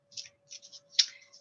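Tarot cards shuffled and cut during a psychic reading: a few soft, papery riffling bursts at close range, separated by short gaps, with one sharper flick near the middle and no talking.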